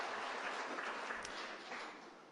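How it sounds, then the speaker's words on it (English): An audience at a 2005 Valencia Community College awards ceremony applauds the Winter Park campus staff with dense, continuous clapping that holds steady and fades slightly at the end. "that's a round of applause there"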